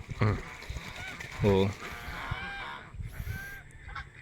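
Ducks on a wide duck farm give loud nasal honking quacks in short bursts, close by, with fainter calls and a person talking in the background.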